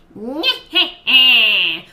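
A high, wavering voiced cackle in three bursts, the last one long and shrill, a person imitating a witch's laugh.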